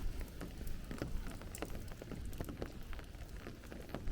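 Rain patters steadily on a hard surface along 67th Street in Sunset Park, Brooklyn, a quiet, continuous hiss broken by scattered drops and small taps.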